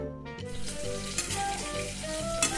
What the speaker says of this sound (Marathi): कारलं बघा चांगलं भाजत आले